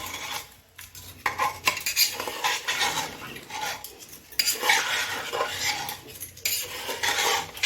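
Mutton pulao is stirred in a metal pot with a spoon, producing repeated scraping and clinking strokes in bursts with short pauses, moderately close and fairly quiet, with a faint sizzle underneath.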